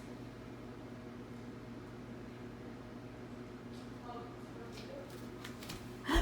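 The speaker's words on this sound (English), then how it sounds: "I can hear the oven almost done" A kitchen microwave oven running steadily near its end, a constant low hum and whirr with faint rattles and clicks toward the finish.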